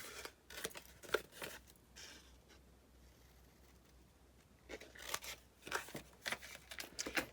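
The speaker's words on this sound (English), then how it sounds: "And then cut top 2 corners and the bottom squares out." Scissors snipping the corners of a paper album, a few quick bursts of close crisp cuts, a quiet pause in the middle, then more cuts.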